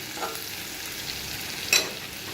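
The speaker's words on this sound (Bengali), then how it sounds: "কড়াইয়ের মধ্যে দিয়ে দিয়েছি প্রথমে পেঁয়াজ" Onions with salt fry in a kadai, a steady close hiss of sizzling oil with a couple of brief stirring scrapes and no talk.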